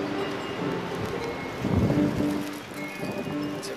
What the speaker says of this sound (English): It's a beautiful breezy morning here in early April on my deck